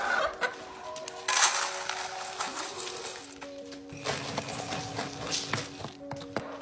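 Hens clucking and murmuring close by as they are fed, with scattered clicks and rustling of feed and footsteps around them.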